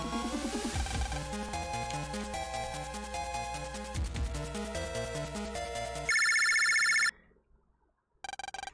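A phone ringing in the video game Megaman Battle Network, a chiptune ringtone melody looping over game music, then a sharp electronic buzz-like ring, a pause, and the ring starting again.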